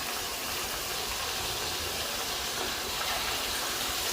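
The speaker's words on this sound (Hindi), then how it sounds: "अब हम पकोड़े फ्राई करते हैं।" Small spoonfuls of pakora batter sizzle in hot oil, a steady, loud, hissing crackle that continues unbroken throughout.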